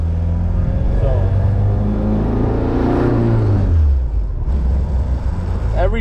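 A Honda Civic EG converted to a manual gearbox accelerates hard, its engine revving loudly upward in pitch, then dropping at a gear change before climbing again, heard from inside the car.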